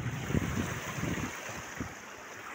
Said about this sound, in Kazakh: мына жерде су ағып төмен қарай екі үш үйге қауіп төндіріп жатыр